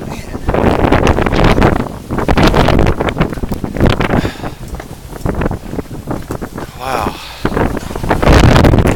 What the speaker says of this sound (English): That wind's going 35 miles an hour.